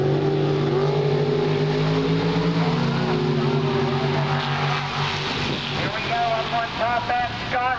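A Chevrolet small-block dragster roars down the Beaver Springs Dragway strip, its loud engine climbing in pitch through gear changes, while a track announcer speaks over it.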